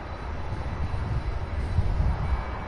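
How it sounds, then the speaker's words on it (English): A UPS Boeing 767 takes off from Louisville's SDF airport, heard as a steady, faint distant jet-engine roar with low rumble, swelling slightly toward the end. "I believe there's one more 767. Yes, it's taken off now, heading for Billings, Montana."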